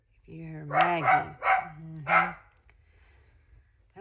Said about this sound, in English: that's Maggie barking at Max